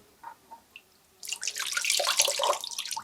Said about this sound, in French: j'ai pas pensé à l'eau qui restait dans la pompe